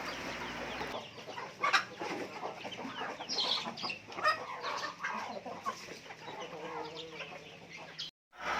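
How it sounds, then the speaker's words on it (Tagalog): Chickens cluck and chatter in a busy, continuous flock, including Black Australorp crosses, with scattered sharper calls over steady outdoor background noise. "tinatawag ni Sir Jeff yung mga manok niya"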